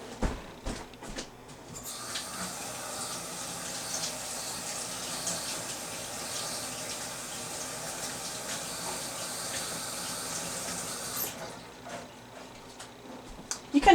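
Water runs steadily from a tap over a painting tool being rinsed, a continuous broadband rush lasting about ten seconds that stops abruptly near the end, with a few handling clatters at either side.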